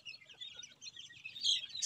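Young bantam chickens on a farm make soft, faint clucks and high chirps, scattered and irregular, growing a little louder toward the end with no one speaking.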